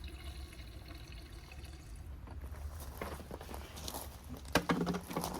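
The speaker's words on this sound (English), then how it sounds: "Gotta throw the blue water in there." Blue windshield washer fluid poured into the reservoir of a MINI Cooper S, a soft steady liquid trickle and patter close by that grows louder and splashier toward the end.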